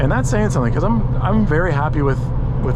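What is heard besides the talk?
No distinct noise like a dog, phone or traffic.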